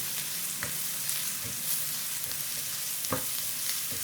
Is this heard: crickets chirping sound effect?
no